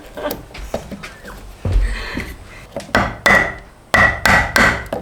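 Repeated hammer blows on wood during a salvaged mobile home rebuild, several sharp close strikes in an uneven rhythm, the last four loud and evenly spaced.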